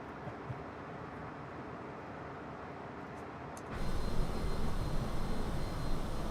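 A Cessna Citation CJ4 jet in flight in Microsoft Flight Simulator 2020, a steady broadband engine and air roar that jumps noticeably louder partway through and holds there.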